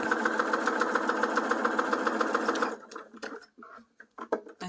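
Steady, fast whirring sewing machine runs alone for nearly three seconds while stitching a sleeve onto a bodice, then stops, followed by a few light clicks and handling noises of fabric.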